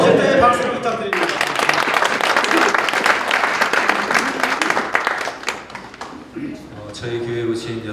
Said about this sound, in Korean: 나오실 때 박수를 부탁드립니다